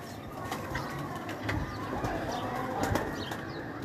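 Teddy pigeon, a female, cooing softly from a rooftop loft amid steady background noise, with faint flutters and no talk.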